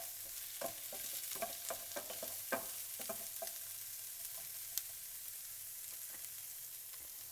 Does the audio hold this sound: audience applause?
no